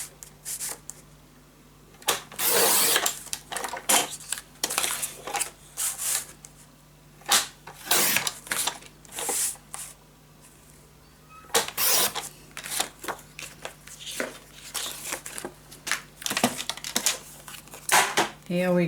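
Paper being cut for a scrapbook mini album comes through as irregular bursts of crisp snipping and rustling, close and fairly loud, with a person talking in between.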